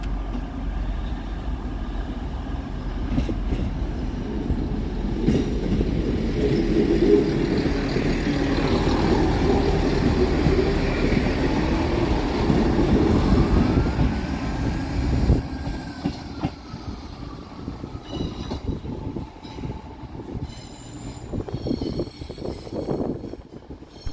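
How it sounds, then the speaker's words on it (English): Two trains, a Class 185 and a Class 158, pulling out of Manchester Piccadilly together in a busy station: a steady low rumble of engines and wheels for about fifteen seconds, then fading, with scattered clicks and a faint tonal whine. "Departing at the same time is 185129 and 158829, working the 1730 Transpennine Express service through to Leeds and the 1713 Transport for Wales service"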